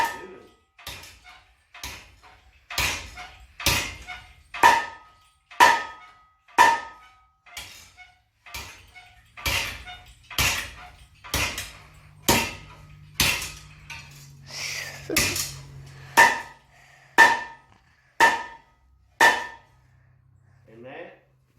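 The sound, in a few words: treadle hammer flattening aluminum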